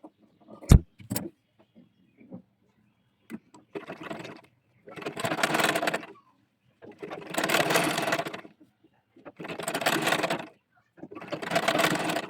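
A sewing machine stitching a gauze-fabric baby dress runs in four separate bursts of a few seconds each, close and fairly loud, with quiet handling clicks and brief pauses between runs.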